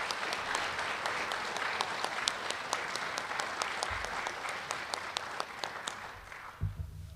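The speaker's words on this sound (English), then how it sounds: "Let's give them a nice round of applause" An audience claps warmly for students at a WCHS student recognition event, with dense sustained applause from many hands that thins and fades near the end.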